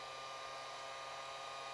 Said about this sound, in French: On prend le décapeur thermique ou le sèche-cheveux. Donc on appuie, on le démarre et on fait chauffer.